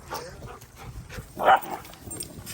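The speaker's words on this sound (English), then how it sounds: "our neighbor's dog, Bear, running amok" A neighbor's dog gives a single soft bark midway through, with faint scattered yips around it in a quiet outdoor setting.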